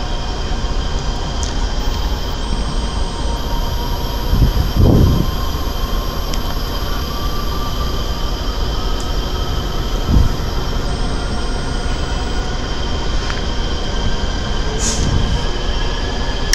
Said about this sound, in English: the engine is up and running.